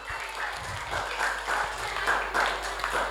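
Applause from a group at a mosque gathering during Ramadan, a few seconds of moderately loud, uneven clapping in clustered bursts, with a low hum running underneath.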